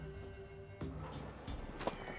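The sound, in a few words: horse hooves in video game Witcher 3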